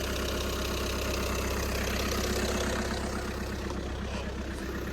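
A VW Caddy van with a workhorse engine and about 170,000 miles idles just after starting up, a loud, steady close-up chug with a rhythmic knock running throughout and no talk.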